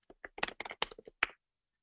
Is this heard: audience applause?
no